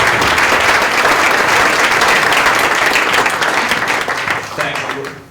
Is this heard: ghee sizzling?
no